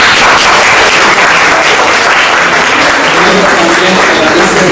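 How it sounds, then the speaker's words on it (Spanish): Strong, dense applause from an audience at a high school oratory contest, a continuous loud wash of many hands clapping with no pauses, steady throughout. "Un fuerte aplauso."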